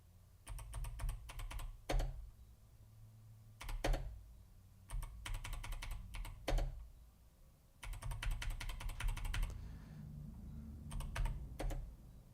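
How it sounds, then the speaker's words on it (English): Keys of a 1988 Amstrad PCW keyboard banged hard during a game of Tetris: clusters of rapid, clattering keystrokes in bursts separated by short pauses, close and fairly loud over a low background hum. "You hear me banging on the keys"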